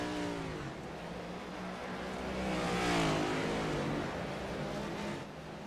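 A dirt-track race car at Bristol winds its engine up loud and close, the rising harmonic whine climbing and peaking mid-pass before easing off, with broadband roar throughout.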